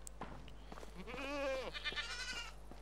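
Goats bleat in the medieval life-sim game Medieval Dynasty: a few short calls lead into one clear, wavering bleat, followed by softer overlapping bleats over quiet background ambience.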